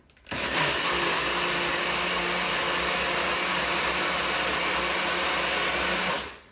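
A NutriBullet blender mixes protein pancake batter, including salt, vanilla and a little stevia, with a loud, steady whirring roar that starts abruptly, holds for about six seconds and then cuts off.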